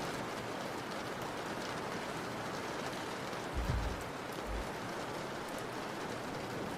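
Steady rain falls as a dense, even hiss throughout, with a couple of brief low thumps partway through.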